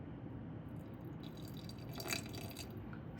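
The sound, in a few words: water poured into sourdough starter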